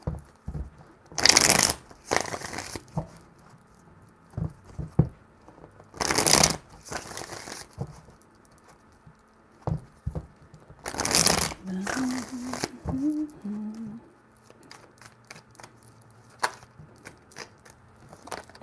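Tarot cards are shuffled by hand in three short, crisp bursts of riffling, separated by quieter pauses with small handling rustles, close and clear, with a low voice murmuring briefly in between.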